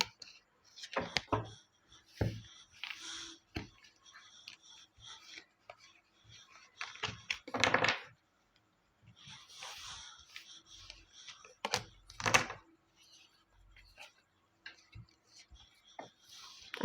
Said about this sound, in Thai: ขออนุญาตเก็บไพ่สักครู่นะคะทุกคน